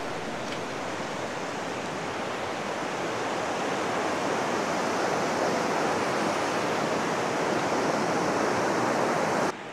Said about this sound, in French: est-ce que j'aimerais habiter à côté d'un torrent comme ça?